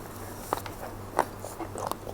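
Crunchy dried snack, a crisp piece eaten during a home food-stockpiling session, bitten in a few sharp crunches with soft chewing between, close and fairly quiet with no talking.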